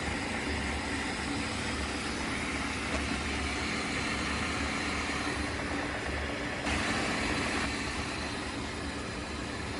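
Steam hisses steadily from a Bissell PowerFresh Lift-Off Pet steam mop, a loud, continuous rushing noise with a brief shift in tone partway through and no voices.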